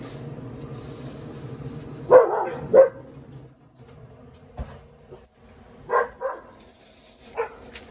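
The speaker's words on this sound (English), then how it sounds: "the dogs are joining us today" Dogs bark a few separate times at moderate distance during an outdoor cook of root beer float ribs, with scattered yips over a low steady background.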